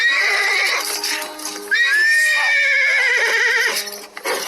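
A spirited show-jumping horse named Spartan gives a loud, close, wavering neigh lasting a couple of seconds over a busy background, with faint hoof noise around it.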